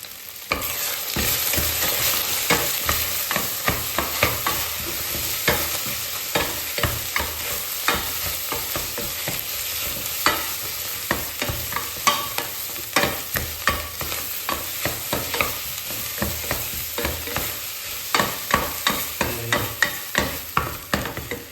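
Egg fried rice sizzling in oil in a pot rather than a wok, with steady frying hiss and a busy run of scraping, clattering stirs throughout, close and fairly loud, no voices.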